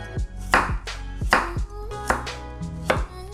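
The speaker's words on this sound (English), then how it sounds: "Slice the bottom so it can lie flat on the cutting board and slice it from the side" A knife slices a carrot on a cutting board, with four firm, evenly spaced chops close up and no one talking.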